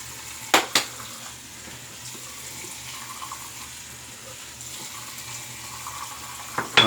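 Running tap water rinsing an all-metal three-piece safety razor, a steady moderate stream with a few sharp clinks of metal near the start and end.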